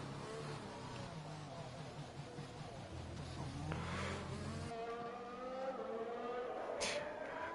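Race cars in the Live for Speed racing game at the Belgian Grand Prix, engines droning and shifting pitch steadily throughout at moderate volume, with no talk over them.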